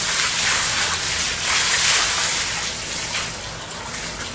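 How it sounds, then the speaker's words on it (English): Water sloshing and churning steadily as a person lowers into a tub of cold water, displacing it; continuous close splashing and swirling throughout without pause. "So we're displacing water here."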